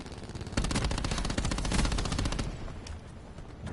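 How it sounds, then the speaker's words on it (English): Rapid automatic gunfire from a sniper-heavy video game match, loud, dense bursts of shots close up that thin out toward the end, with no talking. "That sniper's nest took everyone out in the spawn."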